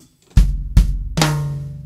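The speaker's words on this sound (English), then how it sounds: "So the left hand stroke on the snare drum is played as a rim shot and it sounds like this." Three crisp drum kit strokes in a quick triplet, the last a ringing snare rim shot accent that sustains with a bright tone, played close and alone.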